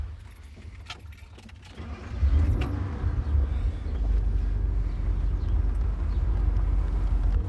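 A car engine rumbles steadily close by as it drives round to the side of a house, the low drone swelling louder after a couple of seconds and holding on with faint jangling at the start.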